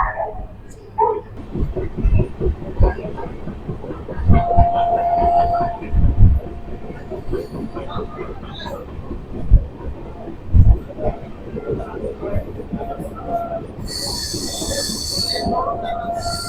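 The Falaknuma SF Express, a Secunderabad to Puri passenger train, rolls along the tracks with rhythmic wheel clatter over rail joints, a rumbling undertone and brief squeals, heard close up with occasional talk.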